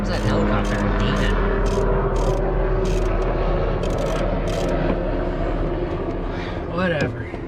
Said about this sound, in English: Here comes that helicopter again.